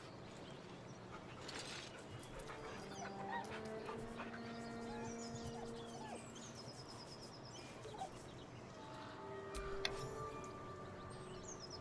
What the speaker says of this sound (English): The dog whimpers nervously, as if to urge you on.